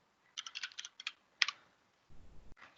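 Typing on a computer keyboard: clusters of crisp key clicks in short irregular bursts, close and distinct against a quiet room, followed by a brief low rumble near the end.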